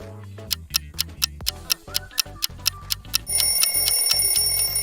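A clock ticks in a steady, even rhythm, each tick sharp and close, and a bright ringing chime layer joins near the end, with no one talking.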